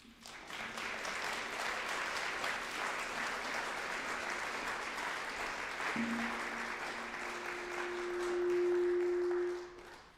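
An audience applauding to welcome a speaker onto the stage: dense, sustained clapping for about ten seconds, with a steady hum underneath and a brief swell near the end before it fades.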